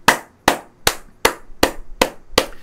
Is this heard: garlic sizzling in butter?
no